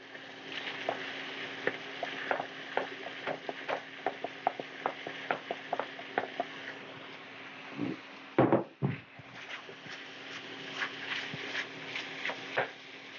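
Cooked brown rice stirred into a chorizo mixture in a pan, with a repeated scraping and clicking of the spoon over a faint sizzle and a brief louder clatter midway.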